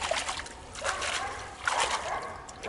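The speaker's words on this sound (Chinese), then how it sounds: "这里有点水，先把泥巴洗一下再拿回家" Muddy hands or objects get washed in shallow outdoor water, with soft irregular splashes and trickles at moderate distance, fairly quiet.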